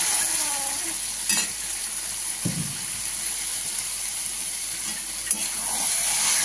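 Bombay duck fish fries in a pan with ground coriander and cumin, a constant close sizzle and hiss with a few brief scrapes and stirs, no talking.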